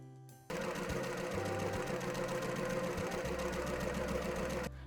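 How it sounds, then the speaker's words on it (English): A sewing machine stitches the center back seam of a tee, starting after a brief pause and then running steadily with a fast, even mechanical whir and rattle. It stays close and loud until it stops abruptly near the end. "pin and sew them right sides together at the center back seam, and then sew it at a 1/2 inch seam allowance"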